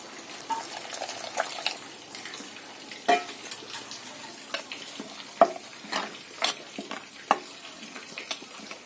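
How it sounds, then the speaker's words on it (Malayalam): A spoon stirs a mackerel and tamarind fish curry mixture in a pan, giving scattered scraping clicks and light clinks against the metal over a soft sizzle, irregular and close. "ഇനി നന്നായിട്ട് ഇളക്കി കൊടുക്കാം."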